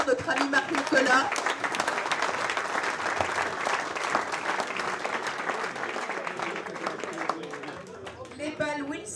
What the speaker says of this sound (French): On peut l'applaudir très fort, notre ami Marc-Nicolas.